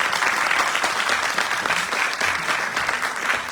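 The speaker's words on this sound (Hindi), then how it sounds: "हम सभी जोरदार तालियों से सभी का अभिवादन करें।" A large crowd applauds loudly and steadily after a stage play performance, a dense wash of clapping that holds at full strength throughout.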